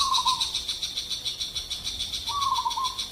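A shrike mimicking its prey's call: two short descending whistles, one at the start and one near the end, clear against a steady high insect-like drone, with no voices.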